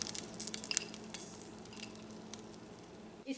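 Nuts frying in oil over low heat for sheer khurma, a soft continuous sizzle with faint crackles and an occasional light clink of a utensil against the pan.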